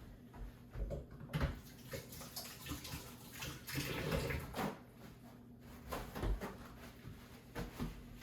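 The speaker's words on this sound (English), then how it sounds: "And then I'll wash my hands." Hands washed under a running tap in a home kitchen after breaking up beef for vegetable beef soup; steady moderate water flow with brief splashes and a few clunks, no talking.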